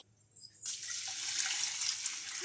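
Water is poured into a bowl holding half a cup of flattened rice (poha) to wash it. After a brief quiet start, a close, steady rushing pour runs continuously to the end.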